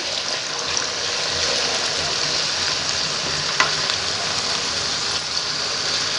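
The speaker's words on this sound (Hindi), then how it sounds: "मीडियम फ्लेम पे हम इसे फ्राई कर लेंगे" Arvi (taro) fries in oil in a kadhai over a medium flame, producing an even, dense crackling sizzle like light rain that holds steady for several seconds, with one brief knock.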